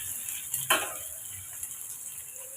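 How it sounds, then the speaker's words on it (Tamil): Crushed onion, garlic and curry leaves sautéing in oil after mustard seeds have popped make a soft, even sizzle. A single sharp scrape of a utensil cuts in early, then a quieter frying hiss continues. "இதை கொஞ்சம் நம்ம எண்ணெயில் ஒரு ரெண்டு நிமிஷம் நம்ம வதக்கி வச்சுக்கோங்க"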